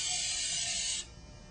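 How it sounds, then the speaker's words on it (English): Olive oil spray can misting the inside of a candle mould, a steady close aerosol hiss lasting about a second before cutting off abruptly. "spray your mould with the olive oil spray"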